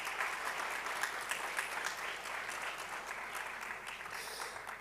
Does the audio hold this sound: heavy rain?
no